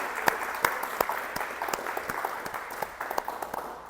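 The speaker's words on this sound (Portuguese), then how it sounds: "Se você puder, aplauda o nome do Senhor." A church congregation applauds together during a worship service, steady clapping with sharp individual claps standing out, moderately distant and sustained throughout.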